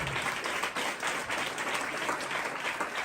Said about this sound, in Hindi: उस खुदा के लिए जोरदार तालियां दो।